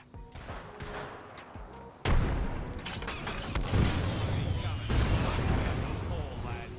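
A grenade blast in Apex Legends lands as a sudden loud boom, followed by ongoing gunfire and rumbling impacts, with voices talking over the combat noise.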